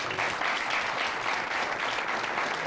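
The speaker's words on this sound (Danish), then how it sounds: "Nu skal vi klappe sådan en mesterværk der." Studio audience on a 1992 Danish TV3 talk show breaks into steady, dense applause that holds at an even level throughout, with no voices over it.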